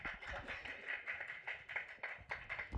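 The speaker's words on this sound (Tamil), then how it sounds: "ஒரு பெரிய கைத்தட்டல் கொடுத்துடலாம் ப்ளீஸ்" Audience applause at the Arubee movie audio launch in Chennai, a continuous crowd of hands clapping with scattered louder claps, fairly close and sustained without talk.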